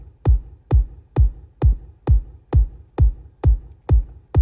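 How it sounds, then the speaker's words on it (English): A basic EDM kick drum sample repeats ten times at an even, steady tempo, each hit a punchy deep thump with a quick decaying tail, loud and isolated with silence between strikes. "the kick should really just sound like this"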